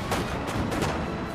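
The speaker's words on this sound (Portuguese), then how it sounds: "do nada, tiros quebraram o silêncio da manhã" Dense, continuous volleys of musket gunfire in a samurai strategy battle game, loud and crackling with overlapping shots and no speech.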